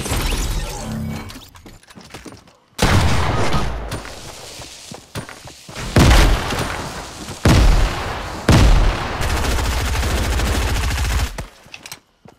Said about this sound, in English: I don't have an AR, only I have an SMG.